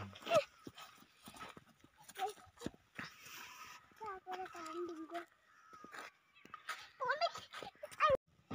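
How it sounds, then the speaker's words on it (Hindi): Three puppies near a Shiva temple in Dholbaha, Punjab whimper and yelp in short, high, thin cries scattered through the scene, with people talking close by over them. "बहुत सारे कुत्ता के बच्चे हैं, तीन कुत्ता के बच्चे हैं"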